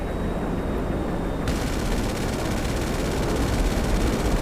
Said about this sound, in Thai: นี่นี่มันเป็นกระสุนระเบิดอะ